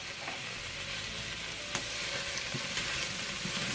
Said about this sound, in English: I'm going to stir it so that it doesn't burn. It's already starting to brown, but that's okay.